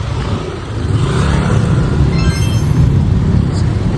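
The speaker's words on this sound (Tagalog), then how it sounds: "Pogi na sasakyan, oh." A car drives past outdoors at close range, its engine noise loud and steady with a slight rise, alone without talk.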